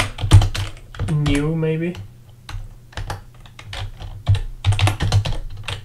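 Computer keyboard typing, bursts of clicking keystrokes while someone builds a grocery list app, heard under and between a person's talk.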